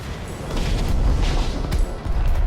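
Fireworks bursting in the Minecraft Story Mode video game, a dense run of loud booming blasts and crackles that overlap continuously for a couple of seconds, with no talking.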